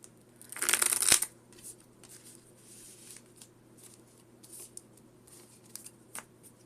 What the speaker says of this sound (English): Let's go and shuffle it again